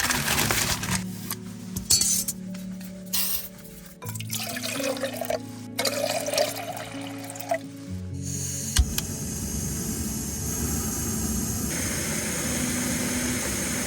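A Jetboil camping stove burning at a makeshift overnight camp, its steady roaring hiss running close and continuous alongside some clattering and handling noises, with no talking.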